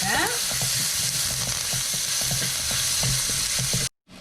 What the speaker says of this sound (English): You have to stir fry them till they are fragrant.